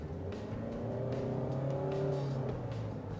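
A Toyota Kijang Innova Zenix Hybrid accelerates, its engine and motor whirring up in rising tones for a few seconds, heard quietly from inside the cabin with no talk.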